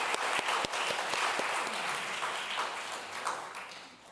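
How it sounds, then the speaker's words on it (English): Applause from an awards-ceremony audience, a dense steady wash of many hands clapping that holds for several seconds and slowly thins, with no voices over it. "Let's give them some acknowledgement with our applause"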